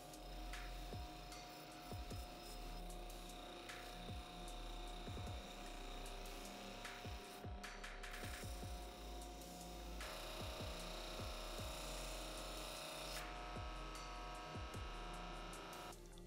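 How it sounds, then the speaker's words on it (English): A rubber sanding drum on a bench buffer grinds against a dirt bike brake caliper, a continuous motor whine with repeated rasping passes and shifts in pitch as the part is worked, quiet and without talk. "I've got a rubber sanding drum over here on the buffer"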